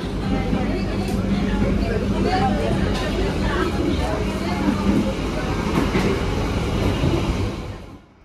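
Rolling clatter and rumble inside a carriage of the Malabar economy train running between Bandung, Jogja and Malang, steady and close, with a faint murmur of passenger voices underneath before the sound fades at the end.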